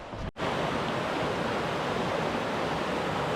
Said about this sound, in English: I've been following this little river